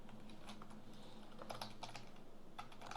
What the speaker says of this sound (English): the password that you have to actually type it 2 times